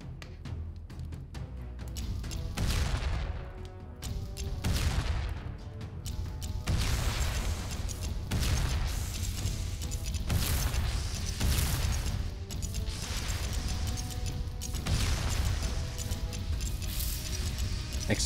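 Repeated explosions in the tower-defense game Emberward burst over and over, each a broad crashing boom layered over constant clicking and mechanical ticking game effects, loud and continuous with no talk.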